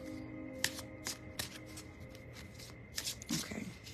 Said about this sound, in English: I'm going to go ahead and shuffle these cards